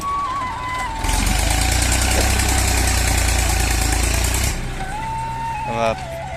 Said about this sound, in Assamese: আমি খানা খাবৰ কাৰণে পানী ট্ৰেক্টৰ লগাই গাঁত খান্দিবলগীয়া হৈছে